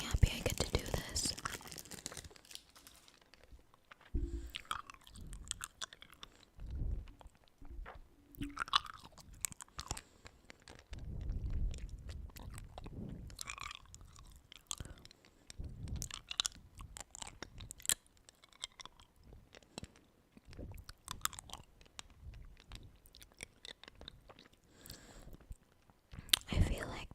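Hard candy being crunched and chewed up close with wet ASMR mouth sounds, faint clicks and crinkles scattered through, while a soft whispering voice chats over much of it.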